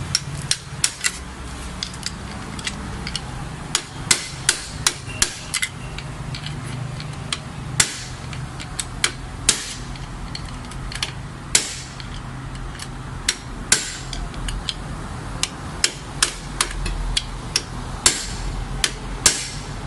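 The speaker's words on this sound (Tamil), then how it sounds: "திரும்பவும் அதை தட்டி தட்டியே டைட் பண்ணணும்" A hammer taps again and again on a motorbike clutch part being tightened, sharp metallic knocks at an irregular rhythm, close and fairly loud over a low background hum.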